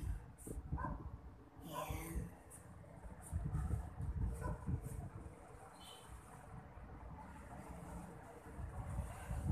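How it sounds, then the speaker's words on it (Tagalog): Gusty wind buffeting a microphone outdoors, low rumbling bursts that rise and fall, with faint distant sounds beneath. "sobrang lakas ng hangin"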